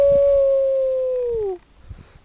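A single sustained howl imitating a wolf, loud and close, holding a steady pitch before sliding downward and cutting off, followed by quiet outdoor background near a riverbank in Guanajuato.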